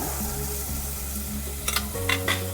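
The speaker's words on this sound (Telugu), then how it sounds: "ఈ టమాటా ఒక రెండు నిమిషాలు అగ్గనిద్దాం" Chopped tomato frying in a pan, a steady close sizzle with a low hum underneath and a few stirring scrapes near the end, no talk.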